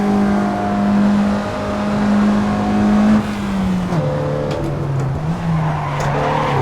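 Mazda MX-3 in Assetto Corsa braking hard, tires squealing loudly over a steady engine drone that drops in pitch as the car slows, with no talk.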